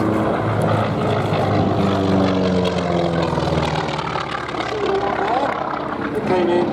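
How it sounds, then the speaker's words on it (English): Two North American T-28S Fennec radial-engine propeller aircraft at the Duxford airshow, a loud, steady droning roar with a slowly shifting pitch as they pass overhead, sustained throughout. "Here we see two North American T-28S Fennecs."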